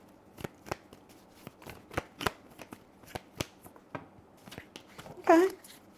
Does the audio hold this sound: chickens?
no